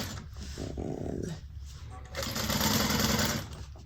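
A sewing machine runs in bursts and then steadily as it back stitches over bag handles for reinforcement, loud and close with a whirring mechanical drone.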